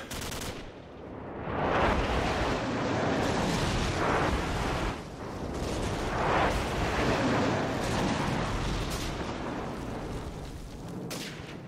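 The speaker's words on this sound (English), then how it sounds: "Airstrike on the way!" Airstrike explosions in Call of Duty 4 on the Crash map, a dense, loud barrage of booming blasts and rattling gunfire rolling continuously for several seconds with no talking.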